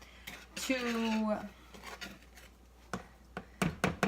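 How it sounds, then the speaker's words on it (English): A utensil knocks and scrapes against a mixing bowl while flour is stirred into chocolate chip cookie dough, irregular clinks and taps spread across the moment with a voice speaking briefly. "I'm gonna stir in the flour"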